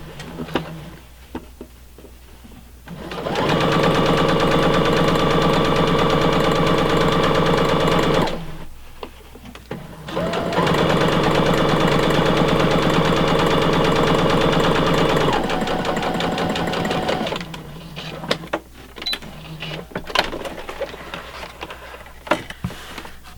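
A sewing machine stitching together a fabric zippered pouch with its lining, running in two long steady bursts of rapid whirring, close and loud, separated by pauses with quieter handling noises.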